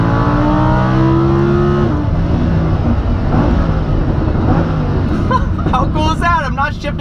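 Lamborghini Huracan accelerating on a track in automatic mode, its engine note rising loud and steady with gear changes handled automatically, continuous through the clip, with a voice talking over it.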